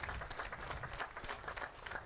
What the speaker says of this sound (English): guys, round of applause for second place in the championship, Jakub Krzyszak.